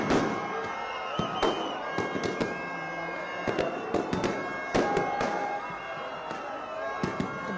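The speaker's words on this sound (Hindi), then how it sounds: "यहाँ पर रावण दहन हो रहा है और देखिए पूरी आतिशबाजी सुनाई पड़ रही है" Fireworks crack and boom in quick irregular bursts during a Ravan Dahan effigy burning, sharp bangs scattered over a constant crowd murmur.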